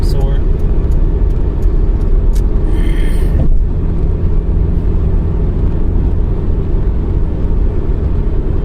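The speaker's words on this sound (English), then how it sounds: "Truck of some sort." A truck passes on a Japanese highway at night, a steady loud road rumble and tire roar from inside a Honda Integra Type R DC5, with a brief brighter swell as it goes by, then continuous engine and road drone.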